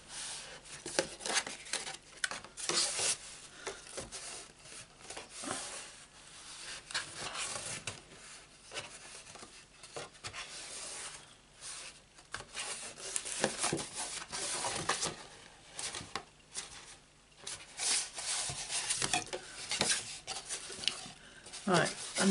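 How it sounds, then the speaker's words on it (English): Paper is rubbed down inside a handmade Stampin' Up craft box: close, quiet, irregular scraping and rubbing strokes continuing throughout, with a voice talking softly at times. "Rub it all down on the inside."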